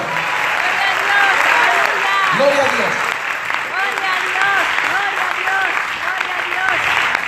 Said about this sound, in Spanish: denle fuerte ese aplauso a esta noche